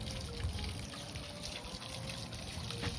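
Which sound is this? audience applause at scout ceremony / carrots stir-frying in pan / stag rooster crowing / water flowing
water flowing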